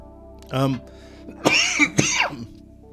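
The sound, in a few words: cough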